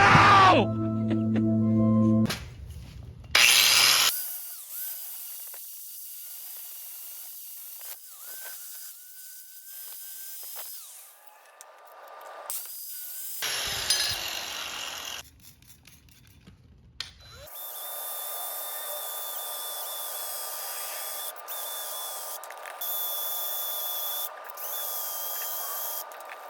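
An angle grinder works on a part from a 1990s two-stroke engine, its high, whining spin starting, stopping and restarting in several loud bursts with a steady drone between them.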